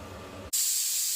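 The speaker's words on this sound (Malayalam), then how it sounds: "കുക്കറിലെ പ്രഷർ ഇതുപോലെ കളഞ്ഞതിന് ശേഷം മാത്രമേ തുറക്കാവൂ." A pressure cooker holding beef for biryani has its pressure released, a loud, close, continuous steam hiss that bursts on abruptly after a moment of quieter background.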